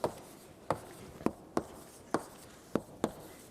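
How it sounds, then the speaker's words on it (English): A pen or marker scratches out a chemical structure in seven short, evenly spaced strokes, each a crisp rub that fades quickly, close and fairly quiet with no talking. "And I'll write out the structure."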